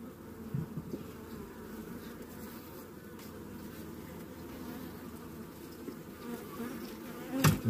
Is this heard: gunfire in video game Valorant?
no